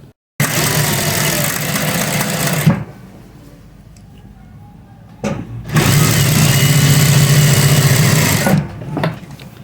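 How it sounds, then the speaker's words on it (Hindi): Electric sewing machine stitching palazzo pant pieces together, running in two steady loud bursts of a few seconds each with a quiet pause between them. "तो सबसे पहले हमने ये ज्वाइंट एक साथ सी लेने हैं।"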